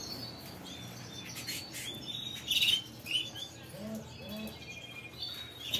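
A male bird chirps while feeding a female in a breeding cage, with a few short, high tweets and some soft lower calls over faint room noise.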